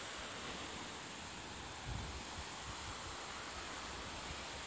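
Ocean waves at Frenchman's Beach in Treasure Beach, Jamaica make a faint, steady wash of surf, a broad hiss with one slightly fuller swell near the middle, with no one talking.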